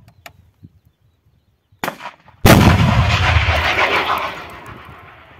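Stugna anti-tank guided missile launch in a Ukraine war setting: a sudden sharp blast after near-silence, then a loud sustained roaring rush of the missile's motor that slowly fades over several seconds.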